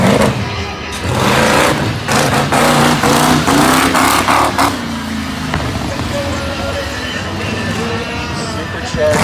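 A mini monster truck at a freestyle show in Turlock, its engine revving and rising in pitch as it comes into a big jump, loud and continuous under an announcer's voice and crowd noise.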